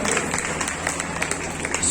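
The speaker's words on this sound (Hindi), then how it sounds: "थोड़ा ताली बजा करो" An audience at a family celebration claps in scattered, uneven bursts, moderately loud, mixed with a voice talking over the applause.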